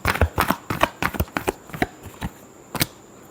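A deck of tarot cards is shuffled by hand in quick, crisp riffling bursts, close and clear, with a short pause before one final snap.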